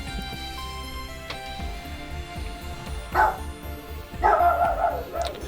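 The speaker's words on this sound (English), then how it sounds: "You might be hearing the dog." A dog in the video game Trails to Azure barks twice, a short bark and then a longer burst, over steady in-game background music, with no talking.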